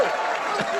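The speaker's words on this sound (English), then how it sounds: "Let's have a nice round of applause for Mike." Studio audience applause for Mike on a comedy talk show, a short steady wash of clapping with crowd noise underneath.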